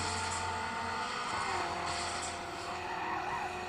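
Cars drive and skid in a racing video game played on a Dell Inspiron 640m laptop, with a continuous engine drone and drawn-out tire squeals rising and falling, heard with no voices.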